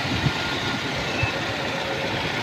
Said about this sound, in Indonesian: suara mesin juga halus